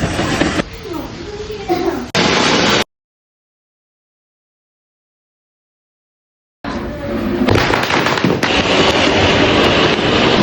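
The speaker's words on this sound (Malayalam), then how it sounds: "ഞങ്ങൾ പൊട്ടിച്ച് കുറച്ച് പടക്കങ്ങളാണ് ഞങ്ങൾ ഇവിടെ കൊടുത്തിട്ടുണ്ട്." Firecrackers burst in rapid crackling volleys during a Vishu celebration on a rainy day, loud and close, with a long stretch of total silence splitting two dense runs of bangs.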